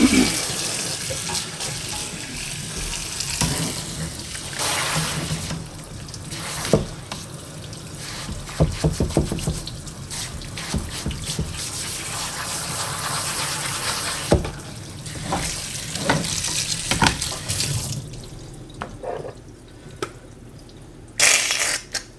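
Water runs from a tap over a stain-marked fabric being rinsed in a laundry room sink, a steady splashing stream with drips and brief interruptions, fairly close and alone without talk.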